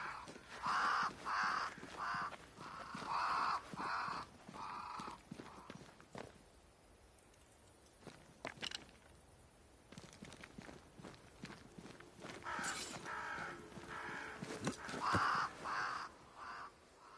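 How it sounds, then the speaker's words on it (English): Crows flocking to a great tree in the video game Banishers: Ghosts of New Eden, cawing loudly in repeated harsh bursts at the start and end, with plodding hoof-like footsteps between. "crows. They flock to that great tree up there."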